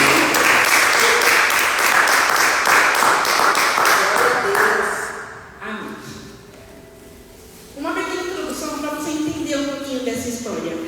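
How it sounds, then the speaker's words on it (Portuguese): A church congregation applauds loudly and steadily for about five seconds, the dense clapping fading away before a voice speaks over quieter background sound. "Aplauda o Senhor, pode."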